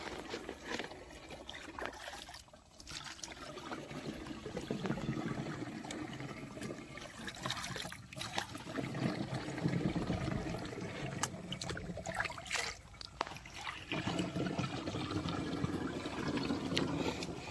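Water trickles and pours steadily for a long stretch against a noisy outdoor background, with a few clunks along the way.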